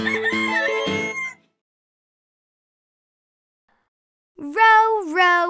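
Rooster cock-a-doodle-doo crowing in a children's nursery rhyme song, one loud sung-like crow at the start, then silence, then another harmonic crow rising at the end.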